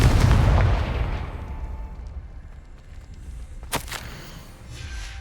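A Confringo fire spell blast from Hogwarts Legacy bursts loudly at the start and decays into a rumbling tail over several seconds, with a single sharp crack near the end.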